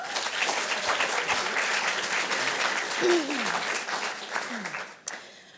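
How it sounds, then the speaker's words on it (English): Audience applause welcoming the next speaker at a venture lightning-round event, a full, dense burst of many hands that gradually thins toward the end, with a brief voice and a sharp knock as it dies away. "A round of applause for Hannah."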